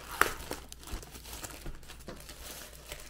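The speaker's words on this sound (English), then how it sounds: "It's in some plastic here, so we're gonna open up the plastic." Plastic wrapping crinkles and crumples close up as a 15.9-inch portable monitor is unwrapped, with a few soft rustling bursts and no talking.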